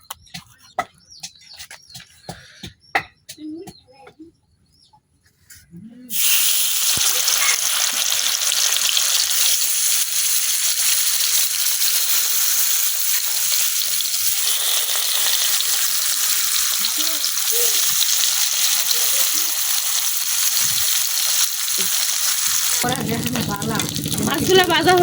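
Fish frying in oil in a wok over a village stove, a loud, continuous sizzle that bursts in after a few seconds of quieter clatter and lasts to the end, with birds faintly audible.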